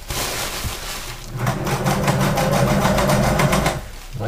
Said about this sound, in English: I'm double stitching everything, so just to make it that much stronger